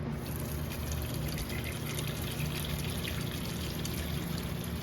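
Water pours steadily over potatoes in a cooking pot, making a continuous, even trickling rush that stays at a moderate level throughout with no talking.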